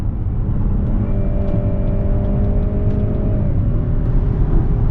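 A 2020 Cadillac XT6 cruising at about 75 mph with the engine near 1900 rpm, a steady low drone mixed with road and wind roar that holds evenly throughout, close and fairly loud.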